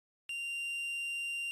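A steady electronic beep tone in a visual novel video game starts abruptly after a short silence and holds unbroken, clear and alone, with no voices.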